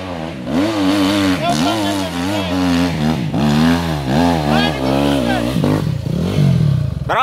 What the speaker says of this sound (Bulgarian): това е твоя мотор!